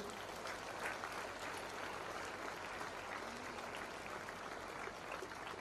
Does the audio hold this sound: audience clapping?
yes